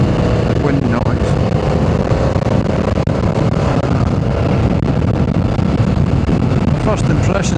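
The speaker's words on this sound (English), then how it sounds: "see if that makes any difference to the noise, the wind noise" Heavy, steady wind roar buffeting the microphone while riding a new motorcycle with the screen raised, loud and unbroken throughout with engine rumble underneath and no talk.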